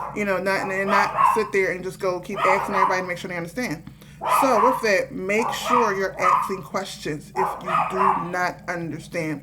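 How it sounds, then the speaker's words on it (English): Household dogs barking repeatedly at neighbors getting furniture delivered, with short barks and yips scattered through continuous talking that dominates. "these dogs have been barking all day at the neighbors"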